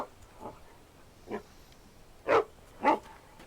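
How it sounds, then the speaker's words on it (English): Dog in the video game Alan Wake barks four times at irregular intervals. The first two barks are softer and the last two louder and closer, with no voices over them. "I hear a dog. That's another dog."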